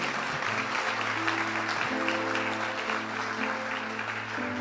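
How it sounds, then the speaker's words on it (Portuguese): A church congregation applauds in a steady, dense wash of clapping that holds evenly throughout, with a sustained musical tone underneath. "Pode aplaudir ao Senhor."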